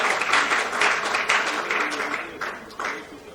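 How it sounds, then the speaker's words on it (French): Audience applause at a formal ministry ceremony honouring partners: steady, full clapping from a crowd that swells and eases in waves and fades slightly toward the end. "Nous pouvons aussi applaudir pour les partenaires fidèles du ministère."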